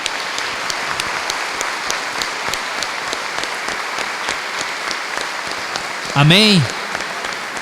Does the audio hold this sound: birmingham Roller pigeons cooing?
no